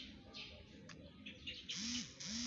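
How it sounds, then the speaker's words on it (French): Birds chirp in the trees of a quiet, car-free neighbourhood, with several short bright tweets and a pair of rising-falling calls near the end, faint against a soft outdoor background. "Il y a des oiseaux dans les arbres."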